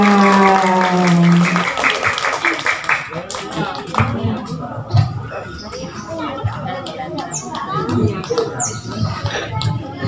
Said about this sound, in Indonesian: Tepuk tangan anak-anak dulu.